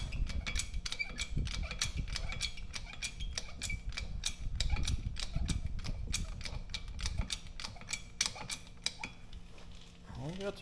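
A pipe wrench repeatedly slips and clicks against a backhoe axle during repair, giving a rapid series of sharp metallic ratcheting ticks over a low rumbling background that carries on steadily throughout.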